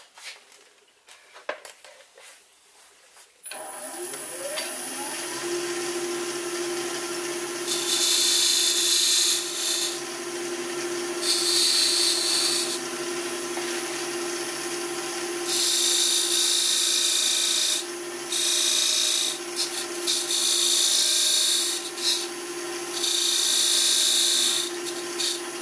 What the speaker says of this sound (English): So now I'm going to use this little detail point tool.